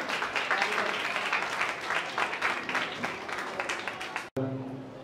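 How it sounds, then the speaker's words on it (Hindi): At a school welcome ceremony, an audience of teachers, parents and children claps steadily in a full, dense burst that cuts off abruptly near the end, followed by quieter room sound. "आप सभी तालियां बजाकर हमारा मनोबल, हमारा उत्साह बढ़ाते रहें।"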